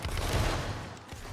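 Musket volley in a Roblox battle, a loud burst of many shots fired together that blurs into one booming roar, then a short rumbling tail fading out.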